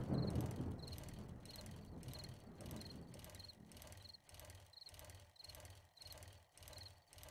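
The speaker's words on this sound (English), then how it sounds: "crickets chirping." Crickets chirping at night in the survival video game 7 Days to Die, regular pulsing chirps repeating about twice a second over a low windy ambience, steady and unaccompanied by voices.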